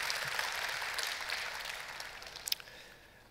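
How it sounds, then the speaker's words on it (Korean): A church congregation claps together in praise during an early-morning summer revival service, a broad steady wash of applause that thins out toward the end, with a few sharper claps standing out. "그 하나님을 찬양하는 우리 박수 한번 올리겠습니다"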